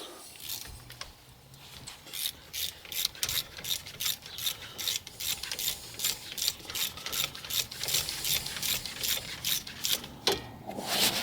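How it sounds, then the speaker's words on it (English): A ratchet with a 14mm socket loosens the brake bolts on a 2008 Dodge Avenger, with rapid repeated clicking strokes at a close, steady rhythm that go on throughout. "Alright, so to get these off, we're going to use a 14mm socket and"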